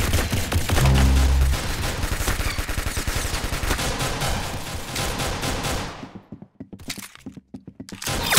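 Rapid gunfire from a round of the video game Arsenal, dense bursts of loud cracking shots that thin out near the end into a few isolated reports, with no voices.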